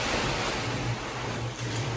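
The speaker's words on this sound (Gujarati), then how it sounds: "પાણીની ઝાપટા પવન સાથે વરસાદ આવે છે" Strong wind driving heavy rain against the walls of a cowshed during a severe downpour, a loud constant roaring wash of noise with a low rumble and no talk.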